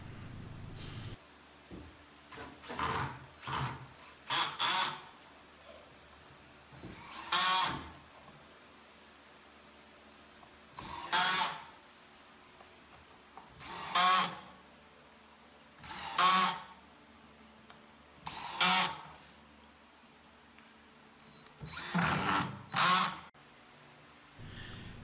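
A power drill drives a row of screws into the back panel of a workshop cabinet, in about a dozen short whirring bursts separated by quiet pauses.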